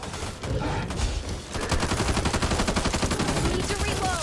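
Rapid automatic gunfire in the co-op zombie shooter Back 4 Blood, a dense, steady stream of shots following a short burst of noise, loud and continuous across the clip.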